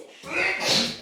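A single short sneeze indoors in a large vacation house room, close and fairly loud, lasting under a second.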